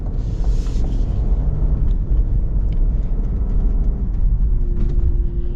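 A 2024 Cadillac CT5-V engine in touring mode gives a steady, low rumble while driving, continuous and fairly loud throughout, with road noise beneath it.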